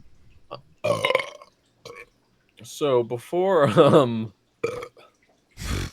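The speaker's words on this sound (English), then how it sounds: "send this to someone who burps just like that, exactly like that" Loud, drawn-out croaking burps repeated in bursts with gaps between them, close up, with a voice speaking briefly near the start.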